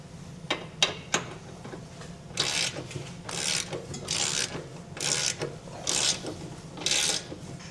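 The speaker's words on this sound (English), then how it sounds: "Now we'll come back through and snug down all of our hardware." A ratchet snugs down Class III trailer hitch bolts on a 2016 Ford T-series, heard as two or three quick sharp clicks and then a run of bursts of raspy ratcheting strokes at close range, with no talk.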